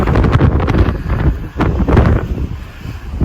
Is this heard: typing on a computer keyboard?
no